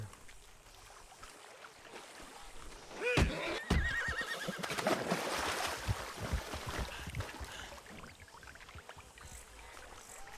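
A horse in Red Dead Redemption 2 whinnies with a rising, wavering call over a steady busy background, followed by a denser stretch of mixed game-like sound.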